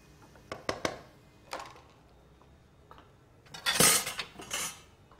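A metal spoon clinks and scrapes against a cooking pot of gajar ka halwa, several sharp knocks near the start, then a louder scraping burst later, close up with no talk.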